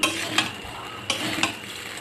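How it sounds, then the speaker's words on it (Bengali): Fried rice with vegetables sizzles in a hot pan while a spatula scrapes and tosses it in a few sharp strokes, close and loud over a steady frying hiss. "এর মধ্যে ভাত দিয়ে একটু নাড়াচাড়া করে নিয়েছি।"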